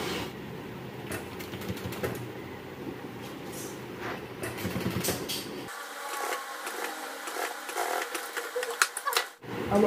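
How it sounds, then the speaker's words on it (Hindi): An industrial sewing machine runs in bursts, double stitching a fixed car seat headrest cover for upholstery, its fast mechanical chatter fairly close with workshop background, ending in a few clunks as the fabric is handled. "तो ये डबल स्टिच हो जाएगा।"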